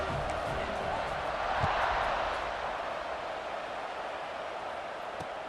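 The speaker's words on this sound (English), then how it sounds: "this crowd is buzzing after that last score" Football stadium crowd at a college game buzzing after a score, a broad steady roar of many voices that swells slightly then settles, heard from a distance under a commentator's talk.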